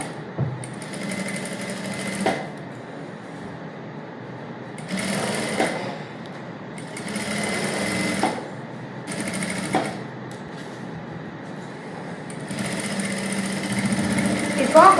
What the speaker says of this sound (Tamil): இப்போ வந்து உள்ளே தள்ளி விட்டுட்டு கழுத்தை சுற்றி தையல் போட போகிறோம்.